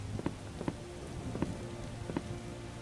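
Rain falling in the video game Starbound: a steady, soft patter with scattered light drops tapping close by, no voices.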